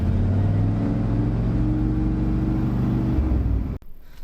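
Bone-stock farm truck engine revving hard and steady at close range, a loud rumbling drone that suddenly cuts out near the end as the engine dies, leaving quiet low rustle.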